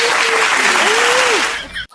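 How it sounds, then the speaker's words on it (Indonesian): Loud applause from an audience at a live talk-show style event, dense and sustained for nearly two seconds before cutting off abruptly, with a voice briefly rising over the clapping. "Teman-teman, tepuk tangan dong."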